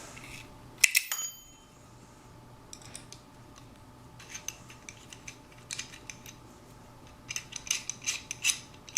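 Hex wrench working a shotgun scope mount screw, with small metallic clicks and scrapes, a sharp clink near the start, and scattered faint ticks and rattles close by in a quiet room.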